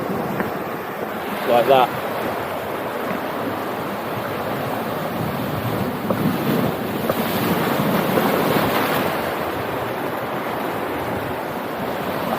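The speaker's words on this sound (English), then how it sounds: "you get a big wave in here and it can roll" A big sea wave rolls in at high tide on the open sea off Guernsey, a broad continuous wash of surf heavily mixed with wind noise, swelling toward the middle, with a brief voice heard early on.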